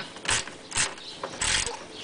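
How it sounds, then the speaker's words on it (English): A ratchet working loose a 9 mm nut near the oil filter under a Ford Mustang GT during an oil change, giving three close, rasping clicking bursts with short pauses between. "Right here we have a 9 millimeter nut. We'll need to loosen that."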